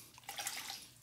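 Water from a tap rinsing a Ti95 safety razor, a brief close splash and trickle with a few drips lasting about a second, quiet and without talk.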